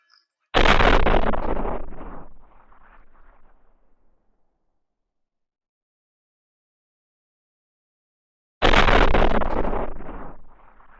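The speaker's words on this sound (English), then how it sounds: "The carriage exploded" A carriage explodes in a fantasy audio drama sound effect: a sudden loud blast rolls off into a rumbling tail. After several seconds of silence a second equally heavy explosion bursts out and decays.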